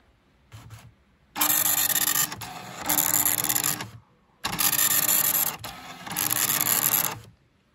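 A printer running its self-test printout, connected to an Arduino, buzzes in loud rasping bursts of printing separated by brief pauses as the head moves line by line, close and without talk.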